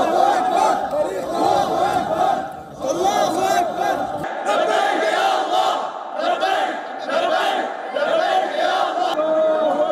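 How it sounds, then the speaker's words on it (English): A large crowd cheers and chants at the Umayyad Mosque in Damascus, a dense, loud roar of massed voices with rhythmic shouted surges that swell and continue throughout. "addressed a cheering crowd at the iconic Umayyad Mosque in Damascus"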